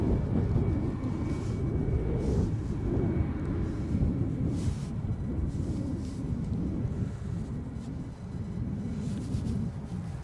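A passenger airplane taxiing at Edinburgh airport during gusty storm weather gives a steady, loud low rumble lasting throughout, with wind buffeting the microphone and no voices.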